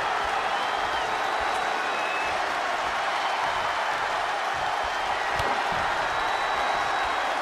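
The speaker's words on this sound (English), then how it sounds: "this crowd is on their feet in full appreciation" A wrestling arena crowd at AEW Double or Nothing on its feet, applauding and cheering in a dense, steady roar of clapping and voices that fills the whole stretch without a break.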